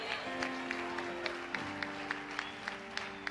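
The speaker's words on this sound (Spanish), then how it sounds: "Den un aplauso." Worshippers at a church congress clap in a steady rhythm, the claps sharp and regular over a sustained musical tone and murmur of the congregation.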